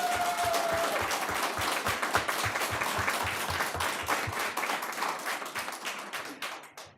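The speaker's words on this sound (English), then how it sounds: "he's brought a cheering squad" Audience members at a Charter Oak USD board of trustees meeting burst into steady, rhythmic clapping for a new hire's supporters, holding even and full for several seconds before thinning out and fading.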